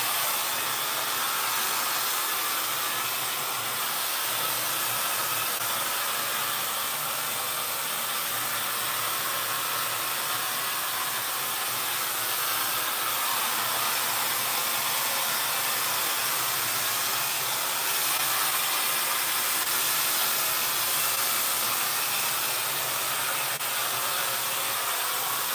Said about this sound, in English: Wow, this is getting dry fast. This blow dryer gets really hot.